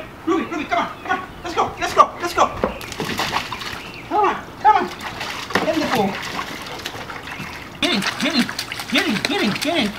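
A Dogue de Bordeaux puppy splashes and sloshes in a kiddie pool with intermittent watery splatters, while people call out and cheer encouragingly over it throughout.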